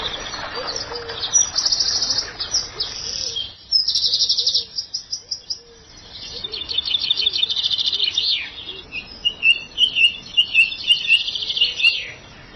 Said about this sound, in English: the sheer amount of bird song is just absolutely phenomenal